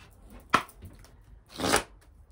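Healing-energy oracle cards shuffled by hand in two short, crisp riffling bursts, the first quick and sharp and the second longer, with quiet room background and no talking.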